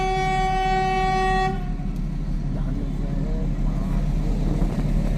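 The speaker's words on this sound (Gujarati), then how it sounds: "ટ્રેન નો પાવો વાગ્યો" A passing train sounds a long, loud horn blast that cuts off after about a second and a half, followed by rumbling rail noise and a few brief voices near a rural track.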